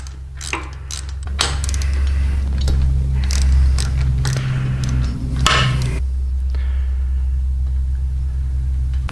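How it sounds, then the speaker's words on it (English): A 5/8 spark plug socket breaks loose the spark plugs on a carbureted Harley-Davidson Softail, giving close metallic ratcheting clicks and scraping over a low steady hum. "we're gonna take our 5/8 spark plug socket. We're gonna break these loose."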